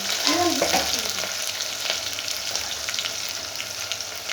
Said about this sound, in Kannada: ಈಗ ಬೆಳ್ಳುಳ್ಳಿ ಕರಿಬೇವೆಲ್ಲ ಫ್ರೈ ಆಗಿದೆ. ನಾನು ಹಸಿಮೆಣ್ಸಿನ್ಕಾಯಿ ಹಾಕಿದ್ದೀನಿ.